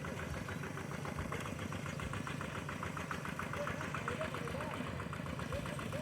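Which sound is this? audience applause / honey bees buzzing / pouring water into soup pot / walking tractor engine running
walking tractor engine running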